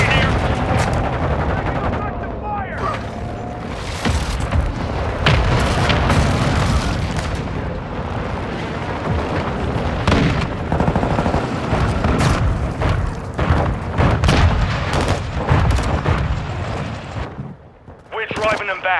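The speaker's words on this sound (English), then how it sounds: "Friendly airstrike on the way." Dense battlefield din in Call of Duty: Modern Warfare II, with rapid automatic gunfire, repeated heavy explosions from an airstrike and booming impacts layered continuously, loud and chaotic, with brief radio voices mixed in.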